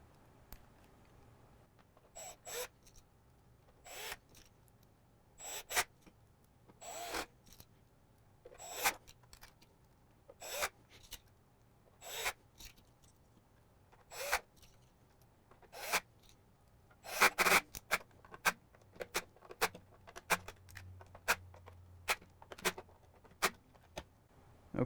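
T10 Torx screws being driven into a Fanatec McLaren GT3 USB adapter with a screwdriver, giving repeated short ratcheting clicks and scrapes in irregular bursts close by, denser toward the end, over a quiet room.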